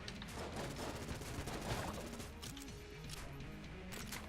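Guns firing nonstop in the twin-stick game Enter the Gungeon: a dense, continuous barrage of rapid shots, crashes and clatter, loud and close throughout.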